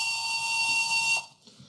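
A model train locomotive whistle from an ESU Loksound V5 decoder, fitted in a Roco ET85, sounds as a steady, shrill sustained tone that holds for over a second and then cuts off abruptly, with no talk.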